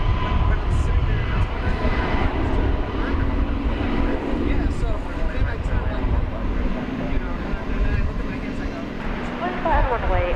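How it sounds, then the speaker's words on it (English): An Airbus A321neo jet, Flight 511 to Toronto, moves on a runway at Dallas Fort Worth airport, producing a loud, steady engine roar that fills the whole stretch, with voices faintly underneath. "That's Flight 511 going to Toronto there on the left. That's a Airbus A321"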